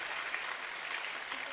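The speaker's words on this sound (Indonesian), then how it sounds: "Boleh dong tepuk tangan untuk Indonesia." A large crowd at an Islamic religious gathering, a Haul Akbar, applauding: a dense, even wash of distant clapping that holds steady throughout, with no clear voices.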